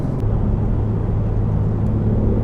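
Steady, close engine and road drone from a 2021 BMW G80 M3 Competition pulling into a small canyon, a constant low rumble throughout with no talking.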